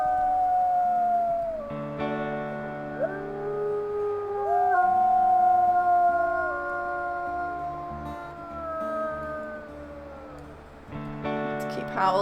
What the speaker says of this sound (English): Let's keep howling until the hex